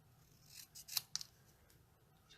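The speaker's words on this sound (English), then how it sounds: "I'm actually going to snip off this extra piece" Scissors snip paper in a quiet room while a greeting card is made, giving a few short, soft cuts and light rustles with no talking.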